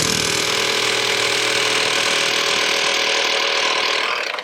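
A Snap-on or Bauer impact driver hammers continuously and loudly at close range while taking a bolt off, rattling steadily for about four seconds before cutting out abruptly at the end.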